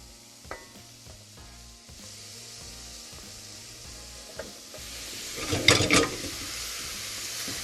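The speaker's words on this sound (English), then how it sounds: "we can add our herbs and celery into the pot with the meat and onions" Herbs and celery go into a pot of meat and onions for a Persian celery stew, a low steady sizzle with a few soft knocks, then a louder burst of hiss and crackle near the end.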